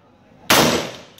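A single loud rifle gunshot cracks out close by after a quiet lead-in, its broad blast decaying over about half a second, with nobody speaking.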